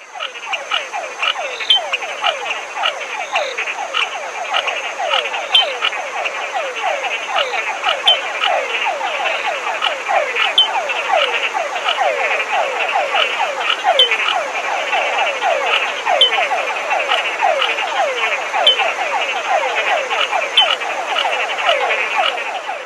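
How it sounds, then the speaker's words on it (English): A nightly chorus of frogs in a Costa Rican rainforest by Piedras Blancas National Park, dense rapid rhythmic croaks and trills repeating nonstop, loud and close, with a faint steady high insect tone behind and no talk. "the nightly concert of frogs begins"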